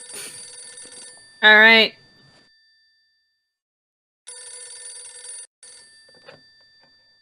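Old telephone ringing in the video game Phantasmagoria 2, bright electronic rings in bursts separated by silence, with a brief spoken word in between.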